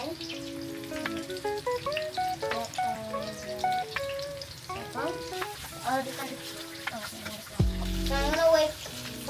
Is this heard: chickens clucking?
no